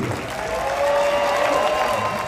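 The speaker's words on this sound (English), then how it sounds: "remember that this applause is just for you!" Crowd applause at the Dolly Parton Stampede dinner show in Pigeon Forge, Tennessee: a dense, loud burst of clapping mixed with a sustained tone and some background voices, filling the whole moment without pause.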